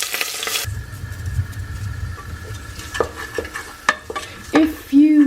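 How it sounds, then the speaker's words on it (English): Leeks cooking gently in a little vegetable oil in a pan give a loud, close, continuous sizzle, with a few spoon knocks and clatters toward the end. "I've put the leeks in the pan with a little bit of vegetable oil, and I'll cook those off gently"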